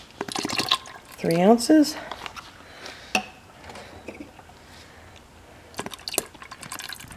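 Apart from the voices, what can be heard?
fragrance oil being poured into soap mixture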